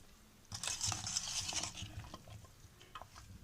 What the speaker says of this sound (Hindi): और नींबू को भी हम अच्छी तरह इसमें मिक्स कर लेंगे।